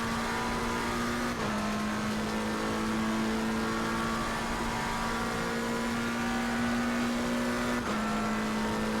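A race car engine in Assetto Corsa Competizione holds a loud, steady high-revving drone, with two brief dips where the pitch shifts as gears change.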